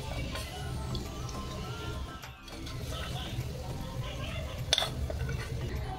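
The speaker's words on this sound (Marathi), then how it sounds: "पूर्ण कांदा फ्राय करून घेतलेला आहे। आता मी काढून घेते एका भांड्यात।" Fried onions are scraped from a pressure cooker pot into another vessel, giving metallic clinks and scraping of utensils against cookware, with a sharper clatter near the end.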